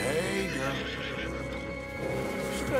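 A white Arabian horse in the video game Red Dead Redemption 2 neighs and whinnies, with hoof clip-clops; close and clear, with game sound around it.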